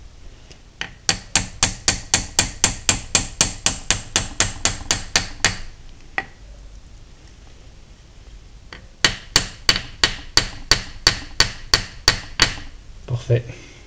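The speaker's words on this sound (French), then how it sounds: "On prend un marteau plus dur." A harder hammer strikes a milling machine dividing head during restoration, in two fast runs of sharp, ringing metallic blows, about twenty then about twelve, close and loud with a short pause between.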